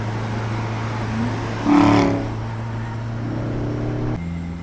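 A Porsche Cayenne GTS with a 4.8 V8 drives on a racetrack: a steady engine drone with a brief surge of revs midway, then it settles back to a constant hum.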